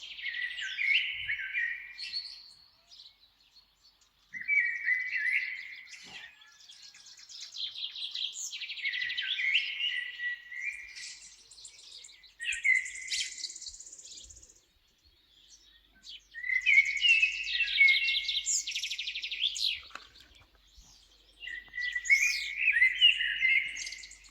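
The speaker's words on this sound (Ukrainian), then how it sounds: "Соловей заспівав." A nightingale sings outdoors in spring, delivering bright, varied phrases of trills and whistles in repeated bursts with short pauses, clear and fairly close against a quiet background.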